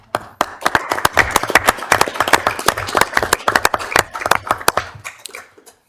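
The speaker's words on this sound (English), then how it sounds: "I think that deserves a round" Applause breaks out at a Rock Springs city council meeting: a room full of hands clapping steadily and crisply for about five seconds before tapering off, with no talk over it.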